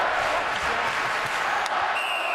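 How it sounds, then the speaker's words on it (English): A sold-out crowd at a Madison Square Garden hockey game between the Rangers and the Flyers cheers and applauds, a dense, loud, continuous roar with no break. "this crowd at Madison Square Garden in a sold-out house, delighted that the Rangers are now within a goal"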